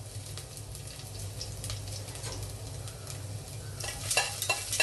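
Ginger frying in a pan for mutton kurma, a continuous close sizzle with stirring scrapes that grows brighter and crackly toward the end, with no talking.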